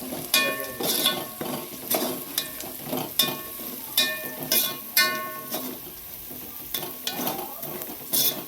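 Onions frying in a pan while a spoon stirs them, a steady close sizzle punctuated by repeated metallic scrapes and clinks against the pan.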